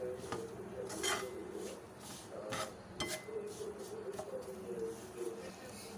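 Softened green chillies for a besan chilli salan are fried in a pan, heard as quiet, intermittent scraping and clinking of a spoon against the pan.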